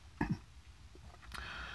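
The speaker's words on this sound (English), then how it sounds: "that coughing stuff clearing my throat" A short throaty cough-like clearing of the throat, quiet and close, followed by faint background noise.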